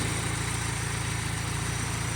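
Ford 2.3 litre four-cylinder overhead-cam engine with eight spark plugs in a 1992 Ford Ranger flatbed, idling smoothly with a steady low rhythmic thrum and even pulses, close and uninterrupted with no voices.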